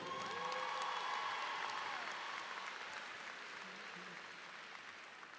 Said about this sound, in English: let's give a big round of applause to one of your greatest advocates, your principal, Dr. Amber Grady.